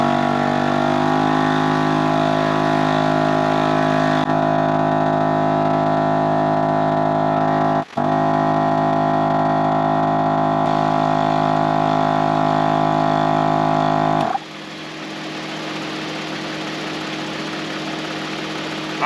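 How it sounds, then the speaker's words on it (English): A Gobege heavy-duty 12V on-board air compressor inflates a tire with a loud, steady motor drone and a pumping hum that holds constant, briefly dips once, then drops to a quieter hiss near the end. "hit the power button on the compressor, and yeah, let's see how quick this thing will go"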